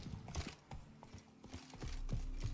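Horse hooves clip-clop unevenly in a Witcher 3 game scene, with a brief neigh-like burst amid soft thuds and background game ambience, close and moderately loud, no talking.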